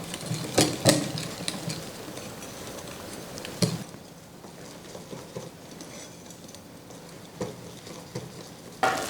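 A spoon scrapes and sloshes through thick chocolate cake batter in a bowl, stirred by hand, with a few louder knocks against the side.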